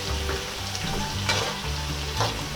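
Sweet potatoes being stirred in melted brown sugar in a pan, with a steady sizzle and soft scraping strokes, close and moderately loud, no voices.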